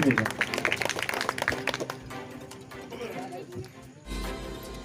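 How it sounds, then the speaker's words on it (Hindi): A crowd at a public speaking event in Prayagraj claps loudly and densely for about two seconds, then the applause thins and fades beneath voices and other noise. "जोरदार तालियों से निवेदन"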